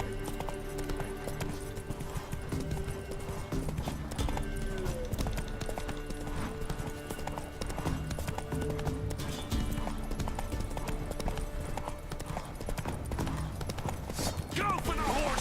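Roach, the horse in The Witcher 3, gallops with steady rhythmic hoofbeats that run through the whole stretch, layered under game music and combat noise, with a brief whinny near the end.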